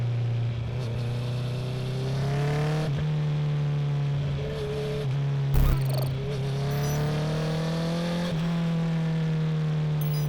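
A Honda CB650R motorcycle with a full Akrapovic exhaust rides through rush-hour traffic, its engine a loud steady drone that rises and falls with throttle and quickshifted gear changes, with a brief bump partway through.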